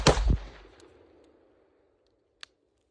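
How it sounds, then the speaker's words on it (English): An AR rifle racked after the magazine goes back in: a loud, sharp metallic clack of the charging handle and bolt, ringing briefly, then a faint tick about two seconds later, with no talking. "bolt forward, mag back on the gun, rack"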